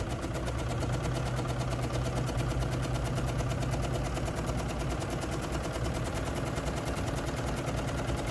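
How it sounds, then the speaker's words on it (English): Sewing machine with an overlock foot stitching a seam, a rapid, even mechanical chatter running continuously at close range and moderate volume. "Go ahead and stitch along here."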